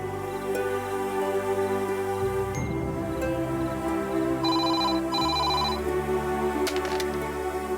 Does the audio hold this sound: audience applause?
no